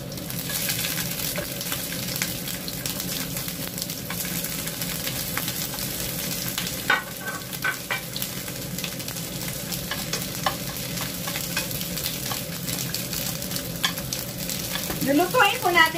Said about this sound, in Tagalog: Dahil ipiprito po natin dito yung ating hipon